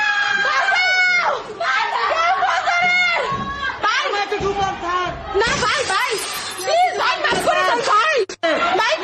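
Loud, close cries and shrill screams from several people during violence, overlapping in frantic bursts amid shouting voices.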